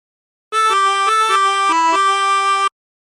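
Harmonica playing a phrase of the Battle Hymn of the Republic, a short run of clean sustained reedy notes stepping up and down, close and loud with no talking.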